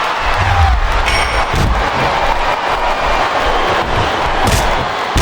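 A loud, steady roar from a wrestling arena crowd in WWE SmackDown vs Raw 2007 on PS2, with occasional impact thuds rising out of the dense crowd noise.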